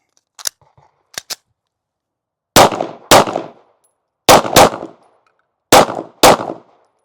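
Canik Mete SF pistol fired at an outdoor range with PMC Bronze 115 grain ammunition: a few faint, distant shots, then six loud, sharp, close reports in three quick pairs with short echoing tails.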